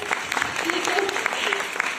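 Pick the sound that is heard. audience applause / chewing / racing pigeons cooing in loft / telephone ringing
audience applause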